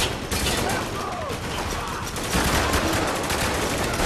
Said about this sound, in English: He's taking out with blind fire.